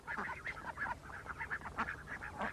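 A flock of farm ducks quacks and honks continuously, close and busy, with overlapping calls in a rapid uneven rhythm and no talking.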